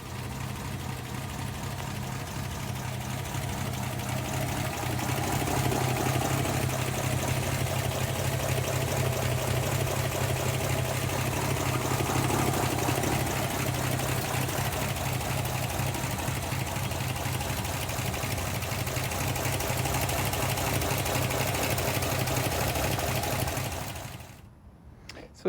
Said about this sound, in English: I'll go ahead and pop the hood so we can hear it run.